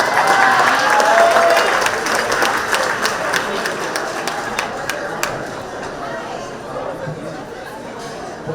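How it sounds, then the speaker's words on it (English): A crowd at a New York State boxing hall of fame induction breaks into loud, dense applause mixed with cheering and chatter, and the clapping slowly fades over several seconds. "give me a round of applause"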